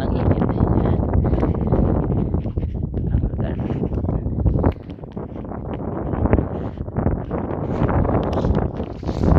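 Strong wind on Mt. Mahayag in Candijay, Bohol, buffeting the microphone as a loud, continuous low roar and rumble that surges and dips but never stops.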